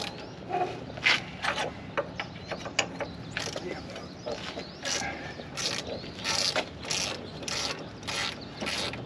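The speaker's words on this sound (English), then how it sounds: "I am fairly surprised at how well some of these bolts are coming off." A ratchet loosens rusty bolts on a 1955 Chevy 3100 Big Window pickup, clicking in quick, uneven bursts up close, with a few creaks and scrapes between strokes and no voices.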